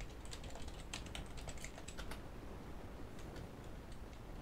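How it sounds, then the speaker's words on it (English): Quick bursts of keystrokes on a computer keyboard, close and quiet, clustered in the first half then tapering to a few scattered taps over a low steady room hum. "Oh, I typed it wrong."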